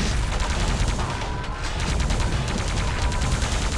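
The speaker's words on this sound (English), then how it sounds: "Some plasma fire here, but not much connection" Continuous plasma gun fire in a Quake deathmatch on DM1, a dense crackling barrage that runs unbroken and fairly loud throughout.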